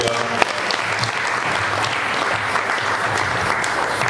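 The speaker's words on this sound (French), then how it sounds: "On acclame Jésus" A church congregation applauds steadily and loudly throughout, a dense, sustained wash of clapping from many hands during worship, with no gaps.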